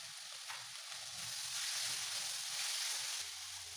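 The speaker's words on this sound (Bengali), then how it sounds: "সয়া সস আর টমেটো কেচাপ দিয়ে ভালো করে একটু নাড়াচাড়া করে নেব" Mushroom chili with soy sauce and tomato ketchup fries in a pan, giving a steady, quiet, close sizzle with faint stirring and no talk.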